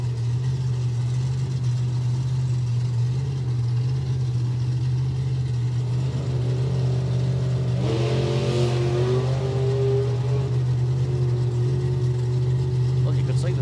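A drag racing car idles with a steady low rumble, then the engine rises sharply in a strong accelerating roar with nitrous, heard at a moderate distance over constant background noise at a live racing event.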